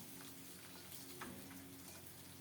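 Small hilsa fish fry in oil with a steady, dense sizzle that crackles close and constant throughout, with no voices.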